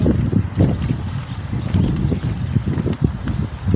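Gusty wind in a park buffets the microphone in uneven rumbling bursts, fairly loud and close, with faint background noise.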